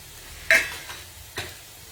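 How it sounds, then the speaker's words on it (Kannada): Food frying in a pan during home Indian cooking, with two short scraping stir strokes over a faint background sizzle. "ಸೊ ಇವಾಗ ಇದು ಫ್ರೈ ಆಗಿದೆ."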